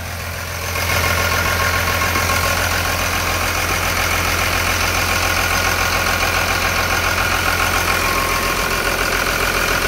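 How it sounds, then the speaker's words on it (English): A Cummins diesel engine in a 2002 Blue Bird bus idles with a deep, steady rumble and rattling clatter, starting up loud within the first second and running evenly. "Motor sounds great."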